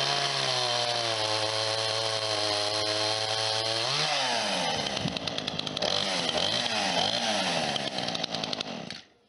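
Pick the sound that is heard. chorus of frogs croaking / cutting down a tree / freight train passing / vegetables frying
cutting down a tree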